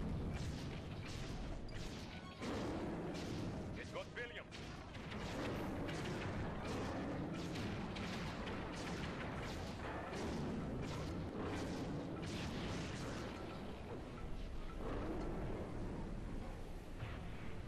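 Shooting at a giant monster's head in the video game Sly 3, with dense, continuous booming blasts and rumbling explosions filling the whole stretch at a steady, loud level.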